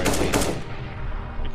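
Rapid automatic gunfire from Counter-Strike: Global Offensive, dense bursts loudest early then thinning into sustained rattling, played up close in a competitive match with no speech over it.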